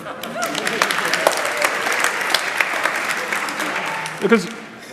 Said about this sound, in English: applause for those people